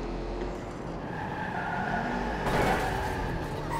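A car in the video game Watch Dogs 2 drives with a constant engine drone and rising tire noise, then a brief louder skid-like burst near the end.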